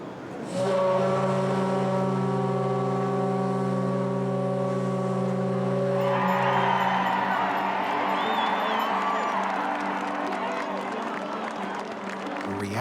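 Titanic's steam whistles blowing: a deep, loud, sustained harmonic blast lasting several seconds, then a crowd roaring and cheering in reaction as the tone fades under the noise.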